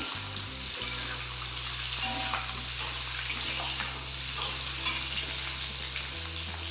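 Potatoes and whole green chillies fry in a pan, a soft continuous sizzle with occasional stirring scrapes under a low steady hum.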